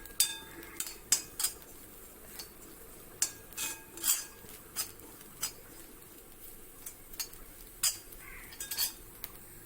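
A spatula stirs grated coconut roasting in a pan over medium flame, giving faint, irregular metallic clinks and scrapes against the pan with no talking.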